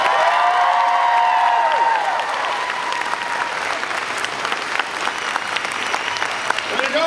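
Audience applause at a comic convention voice actors panel, a dense steady roar of clapping and some cheering, loud and close, with a few voices mixed in.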